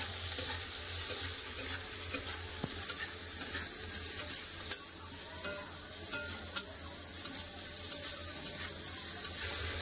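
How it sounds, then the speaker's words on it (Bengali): Prawns frying with onions in a karhai, a steady close sizzle broken by scattered clicks and scrapes of stirring. "চিংড়ি মাছটা পেঁয়াজের করে ভেজে নেব"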